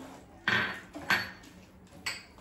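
Pumpkin seeds tipped into a bowl while preparing a five-seed bar, giving three short, fairly close clattering pours separated by quiet gaps.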